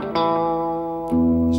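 An electric guitar played through an old echo unit rings out two plucked notes with a warm, sustained tone. Each note carries a soft repeating echo tail, clear and close.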